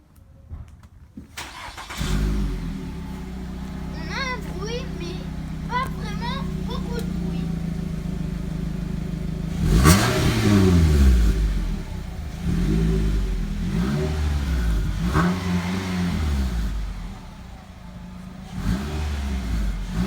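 A Renault Koleos SUV engine cranks and starts up close, then idles and is revved several times in quick bursts, with someone talking nearby.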